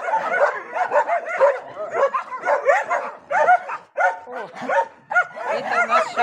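A rescued dog at a shelter barks and yips excitedly in quick repeated bursts, close and loud, with some whimpering between barks.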